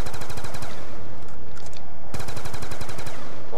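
Rapid automatic gunfire from Call of Duty Black Ops 2 Zombies on the Die Rise map, loud close bursts with a short pause in the middle, no talking over it.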